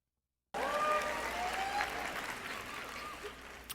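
A crowd applauding and cheering for a woman, a dense wash of clapping with a few raised voices that starts abruptly after a moment of silence, then slowly thins and fades, heard from some distance.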